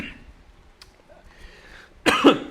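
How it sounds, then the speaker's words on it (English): A single sharp cough bursts out near the end after a stretch of quiet room tone, close and loud. "I can't even cough now."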